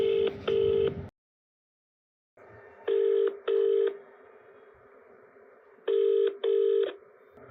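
A telephone dialing before a call: paired electronic tones repeat in short bursts against a steady dial-like hum, with a brief silent gap between them, close and clear with no talking.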